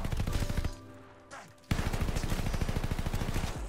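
Rapid bursts of automatic gunfire from Call of Duty Vanguard zombies mode, loud and continuous for most of the stretch with a brief lull near the middle before steady rattling fire resumes.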